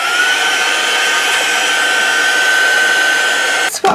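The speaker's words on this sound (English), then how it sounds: "I'm going to just put on my heat gun" A heat gun for heat embossing blows a loud, steady, close whooshing hum with no pauses, cutting off abruptly in the last moment.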